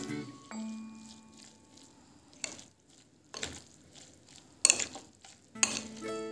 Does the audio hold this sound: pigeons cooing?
no